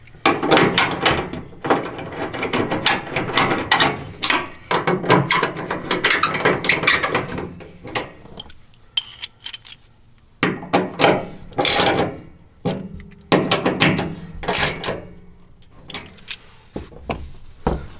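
A ratchet cinches bolts on a bedside MOLLE rack fitted to a 2019-or-later Ford Ranger, giving close, loud bursts of rapid clicking with short pauses between strokes, and no talk.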